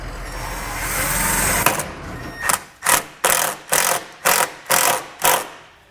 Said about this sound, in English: Then we can grab the self-tapping screw and a 5/16 nut driver, and I'm going to go right into the side of the frame.